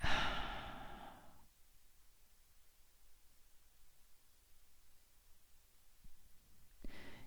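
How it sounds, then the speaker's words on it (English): A long, slow, deep exhale begins loudly and trails off into quiet hiss, and after a pause of near-silence a fresh breath starts near the end, all close and unhurried. "utilizing your breath, just breathing into it"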